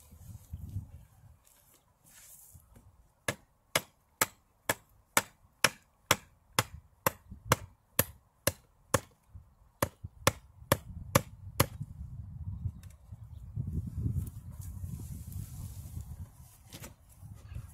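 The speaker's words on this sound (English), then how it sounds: "drive it into the ground with the lump hammer" A lump hammer drives a wooden tree stake into the ground beside a newly planted tree, with about eighteen sharp, evenly spaced strikes in a steady rhythm, close and loud, between quieter handling noise.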